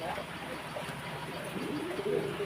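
A white Hungarian house pigeon at a fancy pigeon farm gives soft low cooing, fairly faint and mixed with a person talking in the background.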